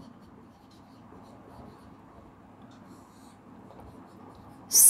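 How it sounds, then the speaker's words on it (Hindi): Chalk or marker strokes as Sanskrit text is written on a classroom board, a soft steady scratching rubbing close by throughout, with no talk, ending in a brief louder noise. "यहाँ लिखेंगे संस्कृतम"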